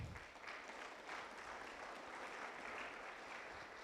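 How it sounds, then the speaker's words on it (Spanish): Hands clap across a church congregation in a sustained, even patter, quiet and somewhat distant, with no voices standing out. "Démosle palmas a Él"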